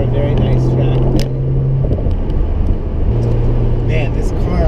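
A 2015 Porsche 911 Turbo S Cabriolet accelerating on a racetrack, its engine droning steadily with a rising tone and then a gear change, loud and close throughout.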